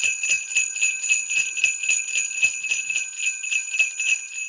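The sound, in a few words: sleigh bells played in a rhythm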